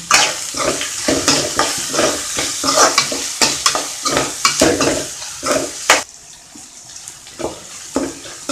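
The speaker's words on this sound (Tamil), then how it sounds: "இப்போ தக்காளி போடுறேன்." Tomatoes go into a hot pan for mutton kuzhambu and are stirred, giving loud close sizzling and frying with repeated scraping stirs, then a quieter stretch of softer sizzle.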